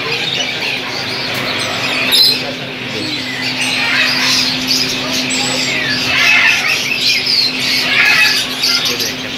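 Parrots at Tollinton Market bird market give loud, harsh squawks and chirps, repeating in bursts over a busy background with people talking nearby.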